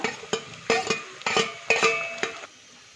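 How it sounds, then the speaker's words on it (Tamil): Onions and curry leaves frying in oil with mustard seeds, stirred in a pan with about five distinct metallic scraping strokes over a low sizzle, close and fairly quiet. "கடுகு பொரிஞ்ச பிறகு வெங்காயத்தை போட்டுக்கோங்க வெங்காயம் போட்ட பிறகு கருவேப்பிலை கொஞ்சம் போட்டுக்கோங்க"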